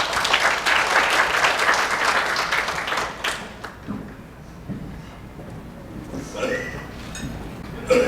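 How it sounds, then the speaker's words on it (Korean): A crowd at a packed property presentation applauds loudly for about three seconds, then the clapping thins to scattered claps and quiet room noise with faint talk. "여러분 큰 박수 부탁드리겠습니다."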